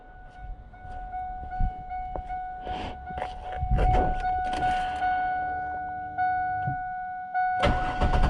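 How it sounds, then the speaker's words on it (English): A GM 3800 V6 car engine cranks and starts, a low rumble building then settling into a steady idle, with a few thunks and a constant tonal hum throughout; no talking. "All right, so I'm gonna start the car."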